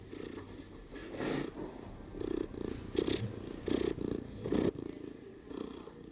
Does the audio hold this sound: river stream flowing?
no